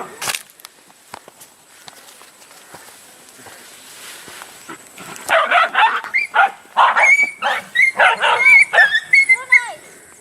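Several dogs, Tibetan breeds among them, start barking together after a stretch of scattered footsteps and rustling, a close, loud, overlapping chorus of rapid barks and yelps that keeps going.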